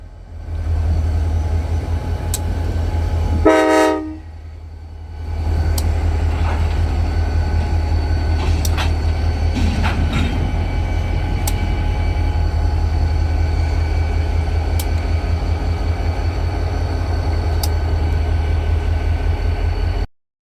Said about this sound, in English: we would catch former CN Comfort Cab KCS 2917 leading KCS 2833 on Job 102